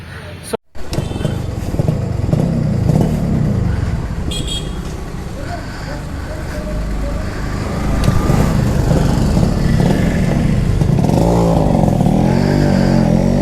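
A Yamaha RX Z two-stroke motorcycle engine idles and runs with a steady buzzing drone, growing louder at times, while someone talks over it nearby.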